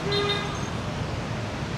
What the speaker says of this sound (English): If you stop hearing the honking, it's very nice.